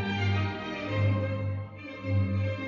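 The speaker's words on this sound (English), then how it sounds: "This is the sound of 326 hands playing Mozart." An ensemble of 326 hands plays Mozart, heard as a sustained, full harmonic chord that swells and fades in a steady, moderately loud wash.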